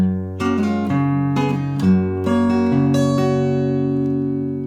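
A song's second phrase rings out on fingerpicked acoustic guitar, a bright sequence of plucked notes in steady rhythm ending on a held, fading chord, close and without talk.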